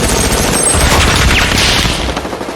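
A .50 caliber machine gun fires rounds in a continuous loud, dense burst that booms throughout, heavy and close with no pauses or voices.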